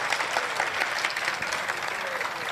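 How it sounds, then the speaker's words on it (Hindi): An audience at a mushaira poetry recital breaks into dense, sustained applause, many hands clapping together loudly and close for a couple of seconds. "तालियां होनी चाहिए यार।"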